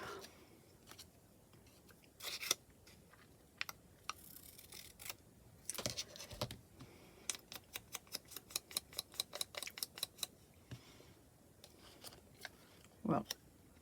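Scissors snip paper for a collage in crisp clicks, a fast run of regular cuts in the middle and scattered single snips around it, in a quiet room with faint sounds of someone handling paper.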